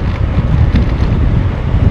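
Cold wind buffets the microphone on a scenic mountain pass, a steady loud rumbling roar that fills the whole stretch without any voices.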